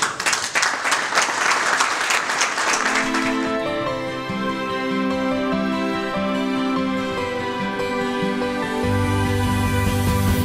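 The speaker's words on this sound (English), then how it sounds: "I'm really giving the military folks a round of applause, please." Applause for military veterans at a veterans and industry leaders event: a few seconds of loud, dense clapping that gives way to sustained music tones for the rest of the stretch.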